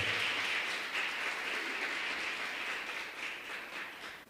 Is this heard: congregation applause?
yes